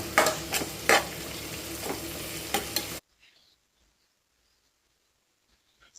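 Onions for biryani sizzle loudly in a pan with a few scraping stir strokes for three seconds, then the sound drops to near silence with faint ticks.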